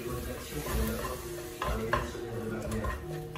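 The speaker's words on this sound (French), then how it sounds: "Donc là on mélange le tout." Minced meat with garlic and ginger is stirred in a pan, giving a faint sizzle with scraping and clinks from a utensil against the pan and a few sharper knocks.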